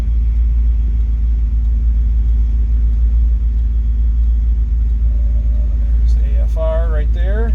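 A Ford 302 V8 stroker with EFI drives with a loud, steady engine rumble throughout, and near the end the pitch rises as it accelerates away.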